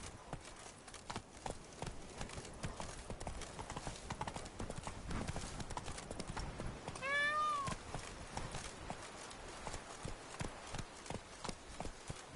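Roach the horse gallops in The Witcher 3: Blood and Wine, hooves clip-clopping in a steady rapid rhythm throughout, fairly close, with a brief whinny-like cry in the middle.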